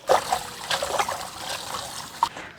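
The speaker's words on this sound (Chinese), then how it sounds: "香芋丝清洗一下。" Shredded taro is rinsed in water, making soft trickling, sloshing and light splashing sounds close by, with a few brief louder splashes and no talking.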